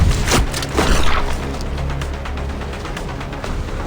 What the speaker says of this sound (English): A loud explosion left Don Quixote dismembered when she stood